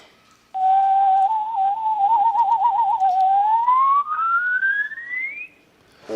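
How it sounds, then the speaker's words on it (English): A person whistles a quick solo rendition of Rhapsody in Blue, a clear, close melodic line with a trilling passage and a long rising glissando, heard alone without talk. "will you give us a little whistle right now, though"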